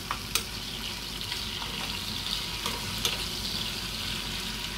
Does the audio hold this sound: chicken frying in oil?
yes